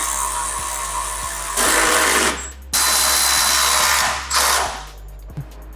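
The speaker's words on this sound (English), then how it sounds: "And we're just tightening up the bottom U-bolt." A power tool drives the bottom U-bolts tight while rock sliders are installed on a 1980s Toyota FJ62 Land Cruiser 60 Series, with loud close bursts of buzzing that start and stop several times.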